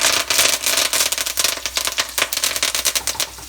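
Curry leaves splutter in hot oil with browned chana dal and asafoetida for lemon rice, a dense, close run of rapid sharp crackles and pops over a steady sizzle.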